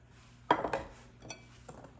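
A utensil clinks and scrapes against a bowl while peach coffee cake batter with butter is mixed, giving a few sharp taps close by, then lighter knocks in an irregular rhythm.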